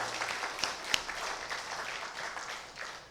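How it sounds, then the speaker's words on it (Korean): A church congregation claps together in praise at an Easter service, a steady mid-level patter of many hands filling the room for a few seconds. "부활하신 주님께 우리가 다시 한번 박수로 영광 돌리십시다"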